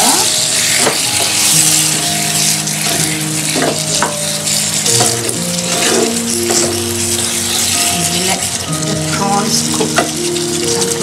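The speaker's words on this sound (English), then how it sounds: "I'm going to add our prawns now." Prawns go into a pot of hot, sizzling masala, setting off a loud, steady fry close by. Scraping stirs and metallic clinks of a utensil against the pot sound over it, and a voice speaks briefly.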